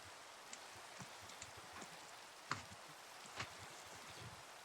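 Rain falls steadily in Minecraft as a soft, even hiss, faint and constant, with a few slightly louder drips now and then and no talking.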